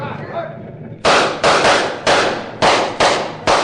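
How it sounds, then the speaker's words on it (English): Gunshots fired at a fleeing wagon in a Sherlock Holmes radio drama: five loud, sharp reports spaced about half a second apart, each ringing out with a short decay, following a stretch of quieter background commotion. "You other men, fire at that wagon."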